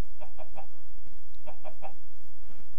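Chickens in a video game cluck in two quick bursts of three sharp notes each, loud and close, over a low steady background hum.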